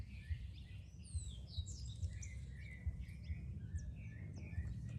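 Double-collared seedeaters feed in a backyard, giving quick high chirps and twittering calls scattered over a low steady background hum, with soft taps of pecking at regular intervals.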